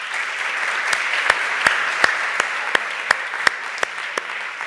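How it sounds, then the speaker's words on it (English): An audience at a startup event in Madrid applauds steadily, a dense wash of clapping with a few sharper claps standing out near the front. "So please, a round of applause."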